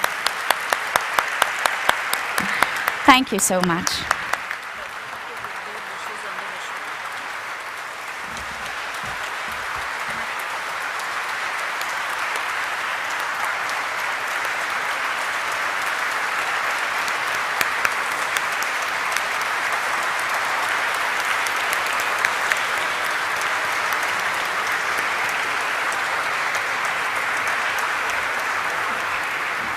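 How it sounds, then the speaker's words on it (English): A large audience claps loudly and steadily at the Mankind Pharma Limited stock listing ceremony, a dense wash of applause that holds for nearly half a minute after a brief spoken thanks at the start. "Let's have a huge round of applause once again for Mankind Pharma Limited."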